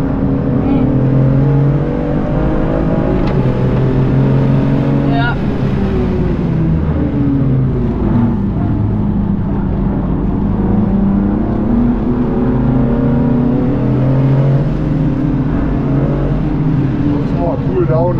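A BMW M2 CS engine revs hard on the Meppen racetrack, loud and close, its pitch climbing and falling through repeated gear changes with a constant roar and no pauses.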